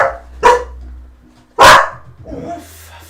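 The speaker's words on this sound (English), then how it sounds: "Star has just been relentless the last 24 hours with her barking and stuff" Star, a pet dog, lets out two loud, close barks about a second apart, followed by a softer whimpering yelp, with quiet room hum between them.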